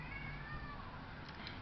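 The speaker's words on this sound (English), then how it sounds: "that's my cat in the background" A pet cat meows faintly in the background, a soft, drawn-out call under steady low room noise, with no one talking.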